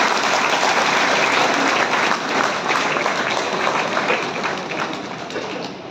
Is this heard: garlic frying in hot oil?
no